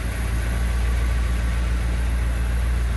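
A 1955 Cadillac Coupe DeVille engine idles smoothly and steadily, a continuous low, even rumble heard close up and alone without any talking.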